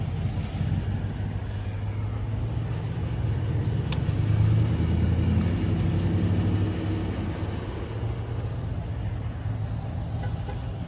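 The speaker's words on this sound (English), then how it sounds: "That's some unattended vehicles running." Several unattended vehicles sit idling with engines running, a steady low rumble that holds evenly throughout at moderate level, with faint outdoor background and no voices.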